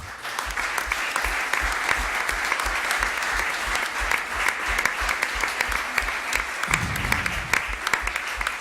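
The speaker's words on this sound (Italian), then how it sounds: "grazie per l'applauso" Audience at a foundation's twentieth-anniversary celebration applauding after a speech, dense sustained clapping from a sizable crowd, even and continuous with no voices.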